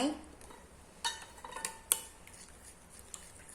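A Thai mango salad dressed with lime juice is being mixed in a bowl. Soft, scattered clinks and scrapes of a utensil against the bowl come from close by, with a couple of sharper taps, all fairly quiet.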